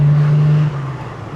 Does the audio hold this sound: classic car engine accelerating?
yes